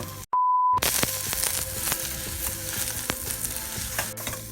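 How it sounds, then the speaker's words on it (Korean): Onions stir-frying in a pan with a small amount of oil, a steady close sizzle with scraping stir strokes, after a brief high beep near the start. "양파부터 일단 볶아주겠습니다"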